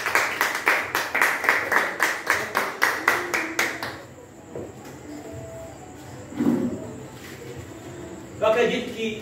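Congregation in a church claps in rhythm, a regular beat of many hands for about four seconds, then stops, leaving quiet room noise with a faint bird coo and a little murmuring.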